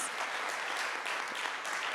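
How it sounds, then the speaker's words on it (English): An audience at a conference session gives a round of applause, a steady, moderately loud patter of many hands clapping without talk. "A huge, okay, that was a weak round of applause. A huge round of applause"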